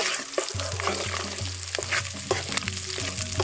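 White onions fry in oil with curry leaves for a village-style gongura chutney, a steady close sizzle and crackle with a low background hum and a few scraping stirs, no talking.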